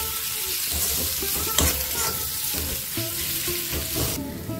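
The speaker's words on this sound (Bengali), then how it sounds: "এবার এই মশলাগুলোকে আমি ভালো করে মিশিয়ে নেব" Spices with a little sugar and a spoonful of oil being mixed in a hot pan, giving a continuous sizzle with repeated stirring scrapes that stop abruptly near the end.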